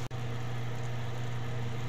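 Low steady bubbling and hum of sauce simmering in a pot, continuous and close, with a brief dropout at the start.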